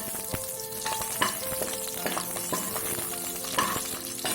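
Whole spices and slit green chillies fry in oil in a pot for a one-pot chicken pulao, giving a steady close crackling sizzle with occasional sharp pops and light stirring scrapes throughout, with no talking.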